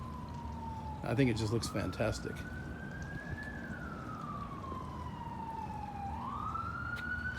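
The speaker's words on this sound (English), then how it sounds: "Excuse the sirens." Emergency vehicle sirens wailing outside in Santa Clarita, a slow rising and falling tone drifting at moderate distance, continuing under a voice talking near the microphone.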